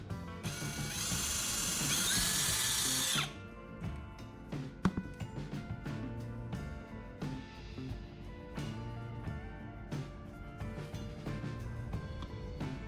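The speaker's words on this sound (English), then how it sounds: "I'll drill a hole in the center of the disc and 3 smaller holes near each of the slots" Power drill boring a center hole and three smaller holes into a disc for a homemade onion cutter, a loud continuous whine at first, then intermittent drilling and clicking handling sounds.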